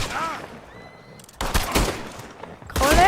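Gunfire in Red Dead Redemption 2 erupts in two loud, sharp bursts, one in the middle and one at the end, while someone talks over the game sounds.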